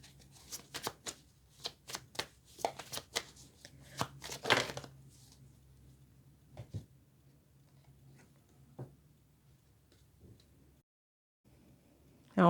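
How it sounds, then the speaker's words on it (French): A deck of cards shuffled and drawn during a reading: a run of crisp close riffling and tapping clicks that thins out into occasional soft taps in a quiet room. "On prend une dernière carte."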